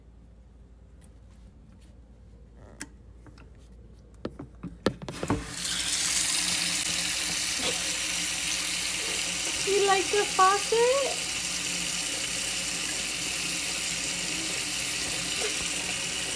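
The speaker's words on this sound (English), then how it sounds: "Should we turn on the faucet?" A faucet is turned on after a few clicks and knocks, then water pours in a steady, close rush that continues to the end, with brief voices and a child's sounds over it partway through.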